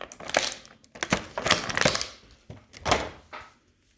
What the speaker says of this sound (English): Let's take him out of the plastic packaging.